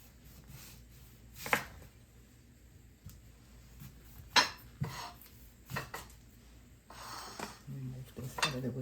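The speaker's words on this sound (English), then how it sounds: "I'm going to cut the yam" A knife cuts through boiled yam on a board in a home kitchen, giving a few sharp knocks and scrapes spread out with quiet gaps, and some clinks of dishes nearby.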